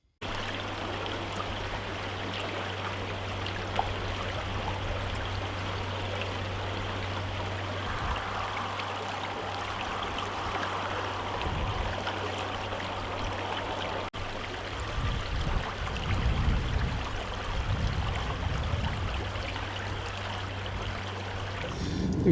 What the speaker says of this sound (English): a little bit of Funny River as it starts to break up and flow back into the Kenai River